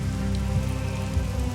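Heavy rain downpour drumming steadily and densely on a surface, a continuous close wash of sound with no pauses.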